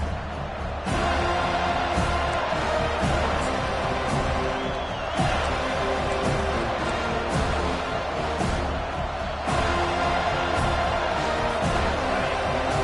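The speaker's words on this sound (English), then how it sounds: "And this crowd coming to life here, trying to help the defense get a stop with the offense pinned back." A football stadium crowd roars in a dense, continuous wall of cheering and noise that holds steady throughout at a distance.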